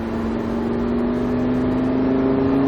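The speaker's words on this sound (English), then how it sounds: "go ahead and start to squeeze onto the gas" A Lamborghini engine accelerates on a Speed Vegas race track, a steady, rising drone with a firm tonal whine heard from inside the car, loud and continuous, with no talking.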